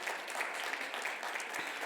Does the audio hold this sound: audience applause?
yes